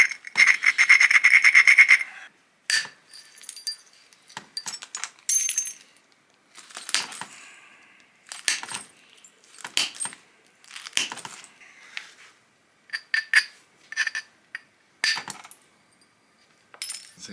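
Sharp glassy clinks and ticks ring out in irregular bursts as thinning flakes are struck off a stone biface during flintknapping for a knife, with a longer scraping chink at the start and brief pauses between strikes.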